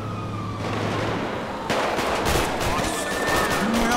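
Wailing police sirens rise and fall through a loud, dense game soundscape during a Porsche 911 GT3 getaway chase toward Los Santos, with engine roar, gunfire-like bursts and a voice talking over it.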